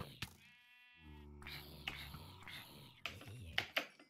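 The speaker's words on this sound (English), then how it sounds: "We got plenty of sheep here, so let me kill them." Sheep bleat in the block-building game Minecraft, heard as two drawn-out, wavering calls close together near the start. Whispered talk and clicking game sounds follow.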